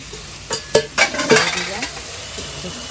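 Mustard paste thinned with water is tipped into a pan of bata fish curry with tamarind, a few quick splashes and stirring scrapes over a soft sizzle, close and moderately loud.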